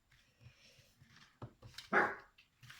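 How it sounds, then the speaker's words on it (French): A female dog barks indoors, a few sharp barks rising to one loud, strained bark near the end, over a quiet room. "C'est ma chienne qui aboie."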